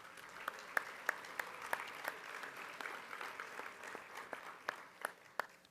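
Conference audience applauding at a general session, a fairly quiet, distant patter of many hands clapping steadily with a few sharper individual claps standing out, no voices over it.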